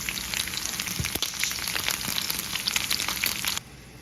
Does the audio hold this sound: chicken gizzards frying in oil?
yes